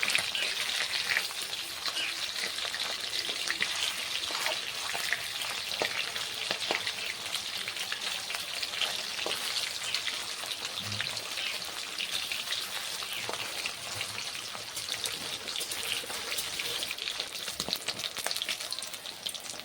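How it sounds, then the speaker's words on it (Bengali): Katla fish pieces sizzle in a pan of oil as they brown, a steady loud crackling hiss like rain on a surface that persists unbroken, with faint stirring knocks and no voices. "এইরকম লাল লাল করে মাছগুলোকে ভেজে নিতে হবে।"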